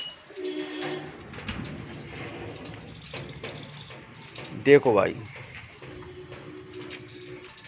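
Soft cooing from Lakhe, Siraji, Frillback and Desi pigeons runs through the background beneath a man's speech, with a brief louder flutter or clatter midway.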